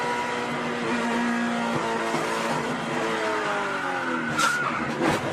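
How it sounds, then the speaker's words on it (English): Race cars come together in a crash, engines whining at varied pitches as tires skid and squeal, with a couple of sharper scrapes near the end over the continuous motor noise. "bit of contact there with Buster Graham, and the 19 of Donnie Neuenberger comes in and makes significant contact with the 48 of James Hilton."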